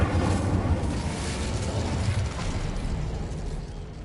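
The Incendio fire spell cast in Hogwarts Legacy on PS5 gives a loud, steady rush of crackling, rumbling flame with mechanical grinding textures, sustained for several seconds without any talk.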